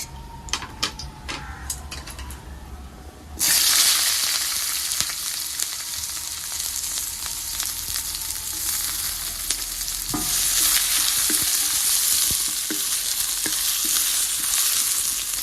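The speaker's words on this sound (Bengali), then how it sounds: "এখন ভেজে নিব পেঁয়াজ।" Onion frying in hot oil in a home kitchen, stirred with a utensil: a loud, steady sizzle bursts in a few seconds in and continues throughout, with scraping stir clicks and light clatter over it.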